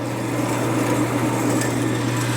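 A used Wilton Model 7020 10 x 16 inch horizontal bandsaw runs with its blade spinning: a steady, close, even mechanical hum with a constant low tone and a fine rasping whir, unchanged through the whole stretch.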